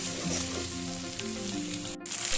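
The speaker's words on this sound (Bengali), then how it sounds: "দিয়ে এবার একটু ভালো করে আমি মশলাটা কষিয়ে নেব" Ginger and green chili paste masala fries steadily in hot oil for a fish (foli) curry, a close, continuous sizzle with a brief drop near the end before the crackle resumes.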